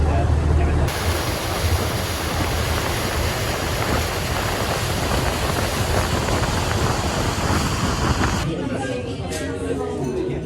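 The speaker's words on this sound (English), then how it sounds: "On a boat on the lake now, just heading out." Steady rush of water and wind noise buffets the microphone, with a low engine hum underneath as a boat moves across an open lake in Italy.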